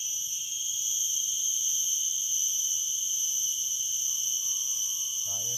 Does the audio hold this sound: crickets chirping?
yes